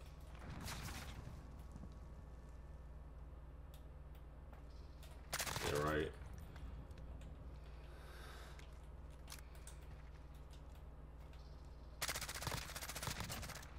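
Call of Duty: Modern Warfare gameplay with an Uzi submachine gun, three short bursts of rapid fire cutting through a steady game background hum, spaced several seconds apart.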